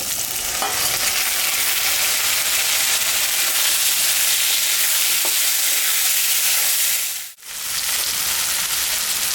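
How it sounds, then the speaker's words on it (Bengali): Potatoes frying in an oiled pan alongside onion and spices, a loud, even sizzle up close with a couple of light clinks and a brief dip near the end. "আলু একটু দিয়ে দিই"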